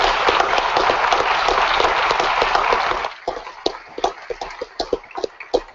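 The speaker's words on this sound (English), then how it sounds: "how about a big round of applause for all of our panelists?" Conference audience applauding its panelists, a loud dense burst of clapping for about three seconds that thins into scattered individual claps and taps as it dies away.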